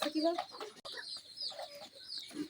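Soft clucking from hens in a chicken house, some sitting on eggs, quiet and close, in short repeated bursts.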